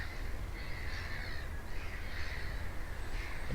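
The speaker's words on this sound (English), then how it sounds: "And plenty of birds squawking away." Crows caw repeatedly over a steady outdoor wash at a wild hammock camp in the Yorkshire countryside, their harsh calls rising and falling at moderate distance with no one talking.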